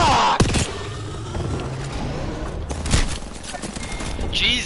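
Gunfire in the Apex Legends video game: loud bursts and rapid volleys of shots crackle irregularly through the stretch, with other game noise between the bursts.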